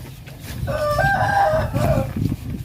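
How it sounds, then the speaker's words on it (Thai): A rooster crows once on a chicken farm, a loud nearby cock-a-doodle-doo over a low background rumble. "เสียงไก่ทำบรรยากาศ"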